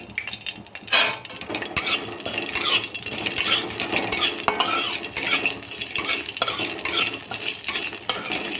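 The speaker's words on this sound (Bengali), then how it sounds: "তেলটা আমার গরম হয়ে গেছে, এর মধ্যে পাঁচফোড়ন একটা শুকনো লঙ্কা দেবো" Panch phoron and a dried red chili crackle in hot oil while a spatula stirs and knocks against the pan, a loud close sizzle broken by repeated metallic scrapes and clinks.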